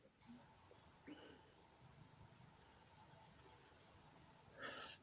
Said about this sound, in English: you can hear in the background a little cricket going